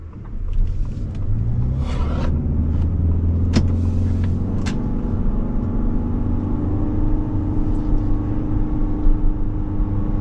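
A 2024 Ford Escape plug-in hybrid drives along a road, heard from inside as a steady low rumble of tyres and drivetrain with a soft whir and a few light clicks, without any talk.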